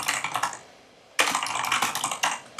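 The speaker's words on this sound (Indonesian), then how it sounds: "kita bisa mulai mengetik pakai bahasa Indonesia" Typing on a Mac computer keyboard while working in Word for Mac: a burst of rapid clicking keystrokes, then a brief pause, then a longer steady run of close, crisp key taps with no talking.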